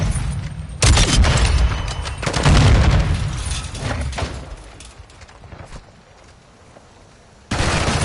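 Grenade blast and gunfire in the video game Modern Warfare 2: loud booming explosions followed by rapid bursts of shots, then a rumbling fade before another sharp blast at the end.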